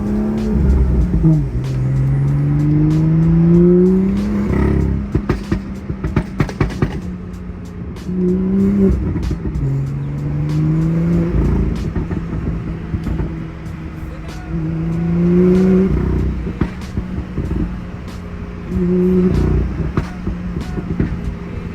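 A BMW M2 revs repeatedly in rising bursts, each climb ending in sharp exhaust pops and crackles, close and loud with pauses between pulls.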